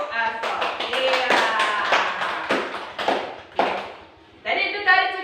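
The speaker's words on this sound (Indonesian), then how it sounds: "tepuk tangan yang meriah untuk Asok." Classroom audience gives a round of clapping during a teaching session, with sharp, regularly spaced claps over background voices and tones.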